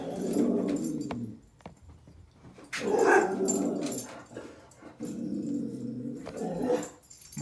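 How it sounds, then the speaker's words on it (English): A dog barks and growls at kids outside, in repeated bursts at moderate distance with some whimpering between; no talk. "Dog's barking at some kids outside."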